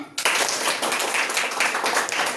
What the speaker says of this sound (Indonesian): Teman berkata, tepuk tangan